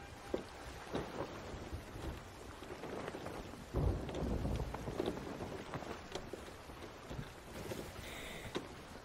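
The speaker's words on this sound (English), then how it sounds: "Storm's coming." A thunderstorm in the Sea of Thieves pirate game, with steady rain and wind around a sailing ship and a deep rumble of thunder swelling midway, followed by a few scattered creaks and splashes, no voices.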